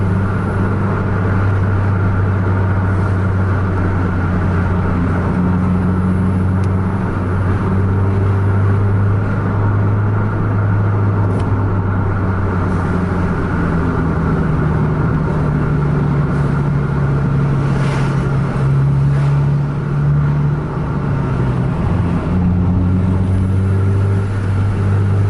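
A loud, steady engine drone from inside a moving Scania bus on the road at night, with low tones slowly rising and falling as it revs and shifts, and a private car passing faintly beneath the constant roar.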